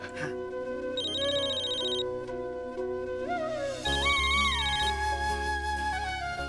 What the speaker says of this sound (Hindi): ये मैं रागिनी को फोन करती हूँ